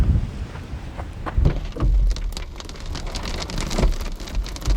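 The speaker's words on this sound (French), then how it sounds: "Et la pluie qui arrive là très bientôt, grosse rafale." Heavy rain sweeping in on gusty wind outdoors by a lake, a dense steady hiss of drops with loud buffeting gusts rumbling close against the microphone throughout.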